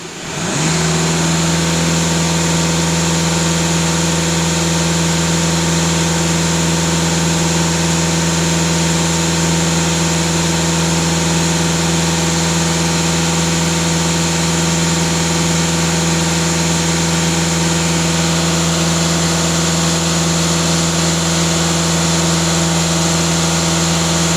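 A diesel Volkswagen Passat B8 engine idles steadily and loudly at close range, a constant low mechanical hum with a fixed drone that holds unchanged for the whole stretch, no voices.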